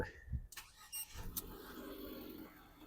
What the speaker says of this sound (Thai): ดี๋ยวเรามาทดลอง ฟังเสียงเครื่องยนต์กันนะครับ